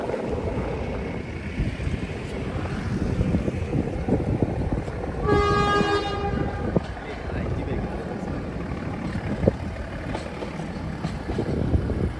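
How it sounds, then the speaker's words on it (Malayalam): A train horn sounds once as a train approaches Lovedale railway station in Ooty, a single sustained toot rising above steady wind noise and outdoor rumble, heard at a moderate distance. "വീണ്ടാമതും ട്രെയിൻ വരുന്നു"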